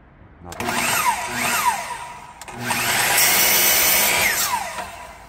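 Wood being cut with a power saw for a 15-inch subwoofer box, two bursts of loud whining cutting with rising and falling pitch, separated by a short pause, no talk.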